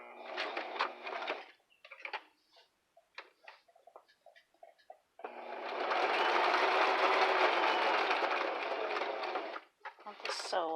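A sewing machine stitching while making DIY recipe cards runs in short bursts of whirring and ticking, then settles into a long steady run of stitching near the microphone.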